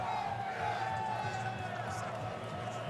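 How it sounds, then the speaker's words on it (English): A large crowd at the 2011 NFL Draft cheers in a loud, continuous roar of voices and whoops, with people talking nearby. "This place is going nuts. Look at this crowd."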